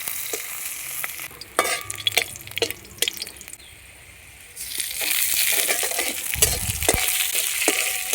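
Black cumin seeds fry in hot oil in a wok already holding garlic and green chillies, giving a steady sizzle broken by scraping stirs and clatter, with a louder, fuller hiss in the second half.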